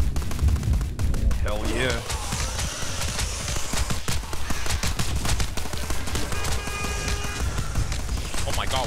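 Grenade launcher and other weapons firing in the game Tower Unite, dense rapid explosive bangs and gunfire rattling continuously and loud, with players shouting excitedly over the barrage.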